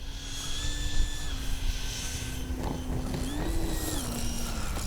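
A Freewing L-39 RC jet comes in to land on grass with flaps down, its ducted-fan whine steady and moderately distant, pitch rising briefly as the throttle changes amid outdoor background noise.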